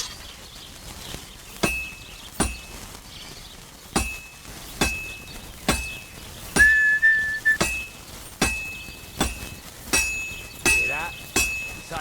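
A blacksmith's hammer strikes metal on an anvil in the Kingdom Come: Deliverance II video game: about a dozen sharp, ringing clangs at a steady, unhurried pace, each leaving a bright metallic ring, with a brief whistle-like tone midway.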